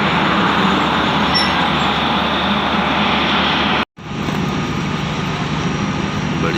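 Rahman Baba Express passenger train hauled by locomotive HGMU 8220 pulling into Pannu railway station on a foggy day, a loud steady rumble of wheels and engine that cuts out abruptly for a moment, then resumes.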